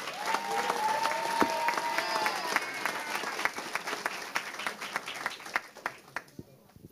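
Audience applause at a formal ceremonial session honoring Ifá worship, a dense round of clapping that holds steady before breaking into scattered individual claps and fading out, with voices audible early on.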